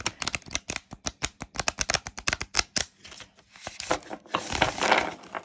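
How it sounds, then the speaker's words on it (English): Cards are riffled and shuffled in quick rapid bursts of crisp flutters, close up, followed by softer sliding and tapping of the deck. "we'll shuffle these cards"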